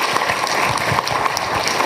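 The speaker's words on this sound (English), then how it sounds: "How about a round of applause for our authors?" A room full of people gives a round of applause for authors at a literary talk about war, a dense steady wash of many hands clapping at once, loud and close, with no speech over it.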